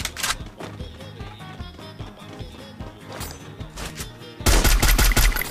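Gunfire in a shooting video game comes as rapid clattering bursts of shots at moderate volume and ends in a sudden, much louder blast.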